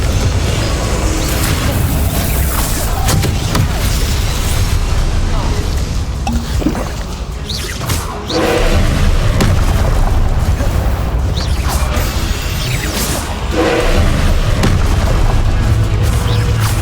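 Confringo blasting-curse explosions in the video game Hogwarts Legacy, heavy repeated booms and bursts packed into dense, loud battle noise that runs almost the whole time, with a brief dip around the middle.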